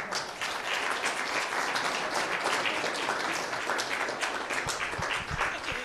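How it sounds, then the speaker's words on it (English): Applause from the audience at a Senate event honoring U.S. recipients of the 2017 Nobel Prizes, a steady, dense clapping that holds at an even level for about six seconds. "I think that deserves a round of applause, too."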